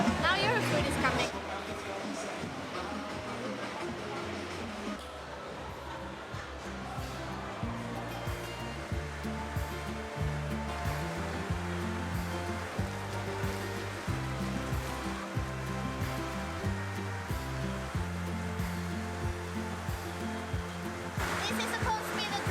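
Heavy rain pours steadily in Panama City during the dry season, a continuous wash of hiss and patter that runs the whole time beneath voices and other layered background sound.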